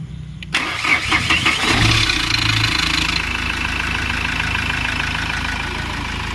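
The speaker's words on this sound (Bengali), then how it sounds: "ভাই গাড়িটা স্টার্ট কর ভাই" A Mahindra Scorpio S10 diesel engine cranks briefly and catches after the alternator belt was changed, revving up with a rough clatter before settling into a steady, loud idle rumble.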